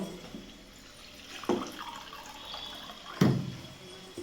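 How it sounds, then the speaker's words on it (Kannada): Water poured into a pan of tomato gojju seasoned with sambar powder while cooking on a stove, arriving as two separate splashing pours a couple of seconds apart over a quiet background. "ಇನ್ನೊಂಚೂರು ನೀರು ಹಾಕ್ಬಿಟ್ಟು ಇನ್ನೊಂದು ಸ್ವಲ್ಪ ನೀರು ಹಾಕ್ಬಿಟ್ಟು"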